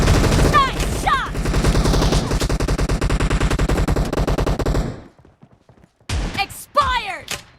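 Shotgun-only team deathmatch in a warehouse map of a video game, with loud rapid bursts of gunfire for several seconds, a short pause, then a few more sharp shots and game effect sounds.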